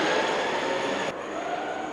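A big RC tractor runs in second gear with a steady, fairly quick whirring drive that hums continuously. The tone shifts slightly partway through, with no voices.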